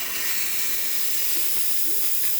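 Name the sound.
steam from La Pavoni espresso machine steam wand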